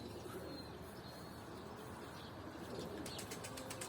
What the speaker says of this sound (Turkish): Bakın şimdi bizim kuş arasına girdi arkadaşlar